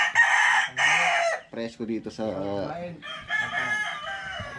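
A rooster crows loudly and up close on a farm where pet chickens are kept, with clucks following and someone speaking between the calls.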